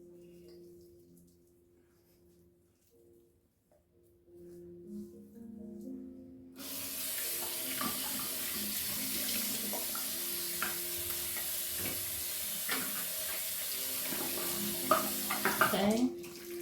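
A bathroom tap runs in a steady, close wash of water that starts abruptly partway through and continues to the end, with a few faint splashes and clinks over it.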